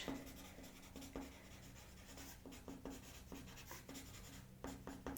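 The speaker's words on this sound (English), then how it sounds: "just have to initial a couple places there" A pencil scratches initials onto paper with short, close, quiet strokes, a series of soft scribbles and taps in an irregular rhythm.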